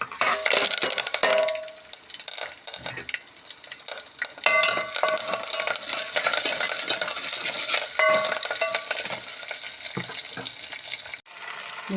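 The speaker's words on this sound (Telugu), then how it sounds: "తర్వాత తాలింపు గింజలు వేసుకుంటున్నా ఇవన్నీ" Mustard and other tempering seeds crackle and sizzle in hot oil in a kitchen pan, a steady close frying hiss with light stirring clinks and scrapes throughout.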